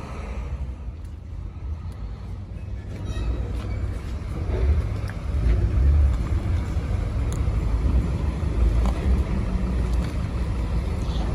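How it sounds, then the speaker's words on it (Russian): A car being driven under its own power into a shipping container for export in New York gives a low engine rumble that swells and grows louder partway through, then holds steady, with no talk. "Вторая машинка на погрузку едет своим ходом в контейнер."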